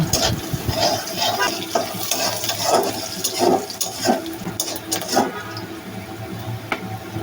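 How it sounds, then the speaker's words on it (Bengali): Onion and green chilli frying in the oil left from frying fish and lentil-dumpling bori, giving a steady close sizzle with intermittent stirring clatters throughout. "সেই তেলের মধ্যে পেঁয়াজ কাঁচামরিচটা আমি গোলাপি করে ভেজে নেব"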